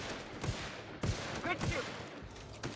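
Gunfire in the game The Outer Worlds, four sharp shots spaced unevenly over a few seconds, with a voice briefly heard between them.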